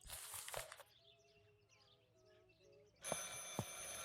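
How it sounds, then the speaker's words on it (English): An old telephone rings in the video game Martha Is Dead, a bright ringing burst at the start and another from about three seconds on, separated by quiet ambient tones. "I should pick up the phone but remain silent."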